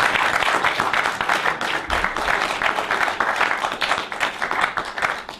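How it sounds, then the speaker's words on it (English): Audience members clap at the end of a lecture on the history of Christianity and Islam. The applause is sustained and fairly dense, rising and falling in waves, with no talking over it. "You gotta give me an applause."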